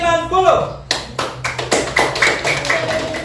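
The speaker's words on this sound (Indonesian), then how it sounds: "Tepuk tangan buat semuanya." Sixth-grade students in an Islamic primary school classroom clap their hands in several rhythmic bursts, close and fairly loud, after a teacher's voice at the start.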